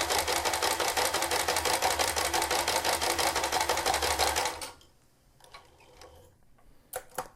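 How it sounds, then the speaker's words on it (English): A sewing machine stitches fabric with a rapid, even mechanical ticking for about four and a half seconds, then stops, leaving a few faint clicks. "sew along a reinforcing line there too"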